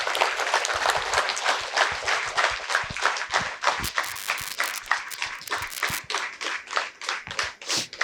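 An audience claps loudly and continuously to welcome someone speaker onto the stage at a youth spirituality event, a dense burst of applause that ripples and fades slightly toward the end.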